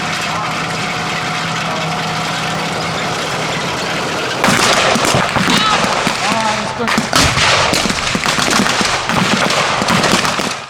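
American open-top M10 and M36 WWII tank destroyers at a museum armor encampment: a steady engine idle gives way at about four seconds to loud, dense, rapid bursts of gunfire that continue to the end.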